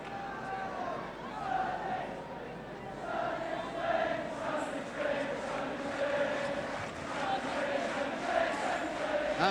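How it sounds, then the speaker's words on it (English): A Welsh football crowd at the Vetch, Swansea, during a Wales v Iceland match chants "sunny Spain" in rhythmic, sustained unison. The crowd is distant and fills the whole stretch, and a commentator speaks over it. "the Welsh crowd can start to chant sunny Spain, sunny Spain"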